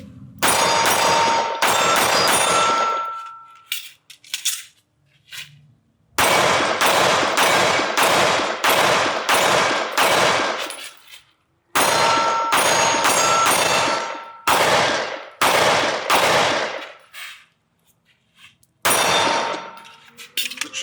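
Walther PDP pistol gunshots at close range, loud sharp reports fired in quick bursts of several rounds each, separated by short pauses with ringing tails.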